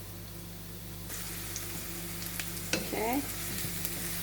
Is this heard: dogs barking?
no